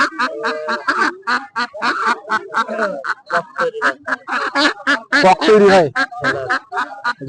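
Ducks quack and honk amid a crowded rural village market, their calls mixed in with near, continuous conversation between people.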